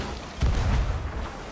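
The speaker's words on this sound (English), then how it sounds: "The cannons going so wacky right now." Ship cannons fire during a Sea of Thieves naval battle, a sudden deep boom that rolls out into a rumbling tail over ongoing game noise, fairly loud and close.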